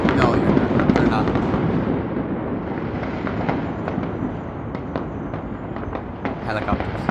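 Melbourne fireworks crackle and pop in a dense, continuous barrage, heard from a distance with sharp bursts standing out now and then.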